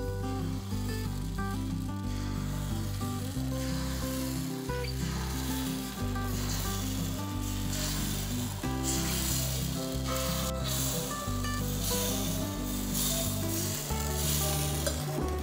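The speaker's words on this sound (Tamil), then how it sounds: "இந்த பணியார குழியில் வந்து நமக்கு ஆப்பம் செய்ய போகிறோம்." Millet appam batter sizzles steadily in the wells of a paniyaram pan over a low flame, a continuous close frying hiss that runs the whole time alongside a tonal background layer.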